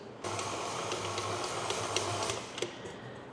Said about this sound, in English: So I'm going to get my chocolate flavoured dough mixing in the mixer.